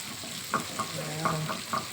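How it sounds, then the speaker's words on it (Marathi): Fish slices coated in turmeric and salt fry in a pan with a soft, steady sizzle, a few light clicks and stirring taps over the hiss, close and fairly quiet. "मी दोन तव्या हळद मिठाचे लावून तळणार"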